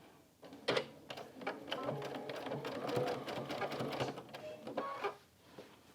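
A domestic sewing machine stitches a cover strip along marked lines to join quilt-as-you-go blocks, running in a steady rapid mechanical whir with brief clicks as it starts and stops, quiet and close.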